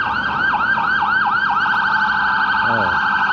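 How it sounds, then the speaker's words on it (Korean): A police car siren wails past on a Toronto street in the evening, its rising and falling tone loud and clear before it fades, with a brief whoop near the end. "경찰차가 지나갑니다"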